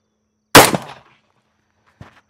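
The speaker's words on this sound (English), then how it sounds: "Let's shoot one more." A single loud, close gunshot from a Wilson Combat pistol chambered in .460 Rowland, fired on a range during an ammo test with 230 gr or 200 gr loads, a sharp crack fading into a short echo, then a faint clatter a moment later.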